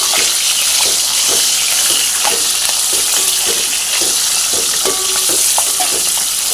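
Capsicum frying with salt in a pan, a loud, continuous hissing sizzle with repeated stirring scrapes throughout, close up and with no voices.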